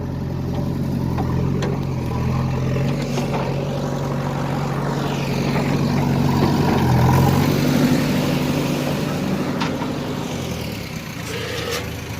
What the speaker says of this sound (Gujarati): ચાલો તો ટ્રેક્ટર જો ભરાઈ ગયો, નાખી આવીએ